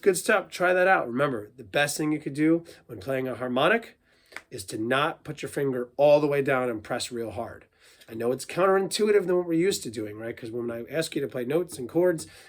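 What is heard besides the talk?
No distinct noise like a dog, phone or traffic.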